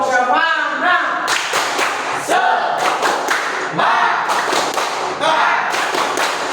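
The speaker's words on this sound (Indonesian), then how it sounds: "Tepuk semangat." A classroom group does a rhythmic clapping chant, loud patterned bursts of claps in quick sets separated by short pauses, with chanting voices running alongside the claps.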